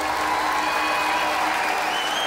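Audience applauding at a live concert at Altice Arena, dense steady clapping from a large crowd filling the hall at even loudness throughout.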